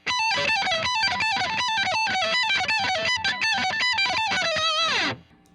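Distorted electric guitars play a fast, busy violin-like melodic line in a song, rapid repeated notes, loud and dense, ending with a descending bend and fade.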